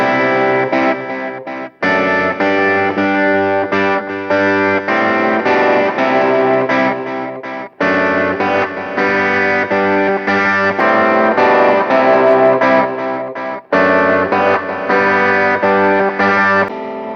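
An electric guitar played through a pedal board of effects, heard in mono and stereo, keeps up a loud, dense, distorted tone with chorus-like shimmer and brief breaks between phrases. No voices.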